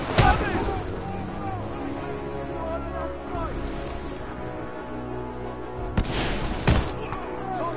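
Titanfall 2 battle audio of supporting fire: a steady wash of gunfire and booming explosions, with two sharp loud blasts near the end and a processed game voice briefly heard over it.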